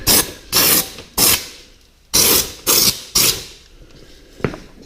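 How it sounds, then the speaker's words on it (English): Short bursts of spray coating hiss onto Jeep JK fenders and into the fender wells, six sharp spurts in an uneven rhythm, close and fairly loud, followed by a faint brief puff near the end. "Spray a little down in there."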